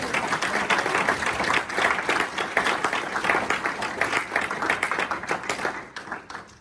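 A church congregation claps loudly and steadily, a full, continuous round of applause filling the hall and easing slightly toward the end.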